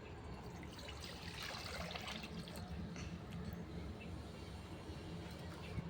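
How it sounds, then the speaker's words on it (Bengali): Water is poured into a wok set on a clay earthen stove, a steady soft splashing stream that runs faint and unbroken for several seconds. "কড়াতে দেবো পানি।"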